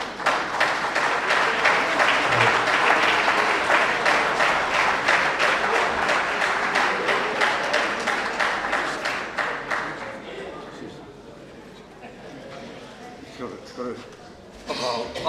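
An audience applauds a 23-member folk dance group after its bailinho performance, with sustained rhythmic clapping that gradually thins and fades into scattered claps and voices toward the end.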